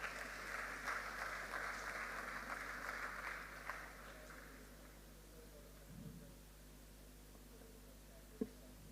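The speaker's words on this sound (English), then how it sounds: "A round of applause, please." Audience applause at an international medical symposium in Rwanda, a faint crowd clapping steadily for a few seconds and then dying away into a quiet room.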